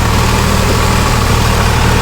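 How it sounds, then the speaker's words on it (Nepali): Tractor engine running steadily during a village ride, a loud, close, low rumbling drone with constant vibration and no variation in pace. "हाम्रो ट्र्याक्टर राइडिङ भइरहेछ"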